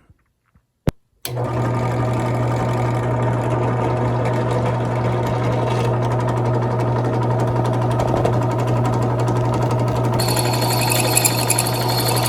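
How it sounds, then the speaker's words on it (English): A power drill runs steadily as it bores holes through a ski with the correct-size bit, a constant close whirring drone after a couple of brief clicks at the start. "Got the correct size drill bit on there, and we're gonna punch a few holes."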